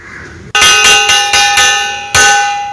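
A school bell rings at a town high school on the day classes reopen: after a short lull, loud metallic strikes come in a regular series, each ringing and decaying before the next.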